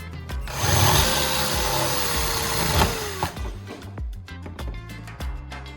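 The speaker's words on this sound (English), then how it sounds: "Once the head of the rivet is drilled off, the rest of it should slide out easily." A power drill bites into a rivet head to drill it off, whining at a steady pitch for a few seconds before winding down, followed by several sharp clicks and taps nearby.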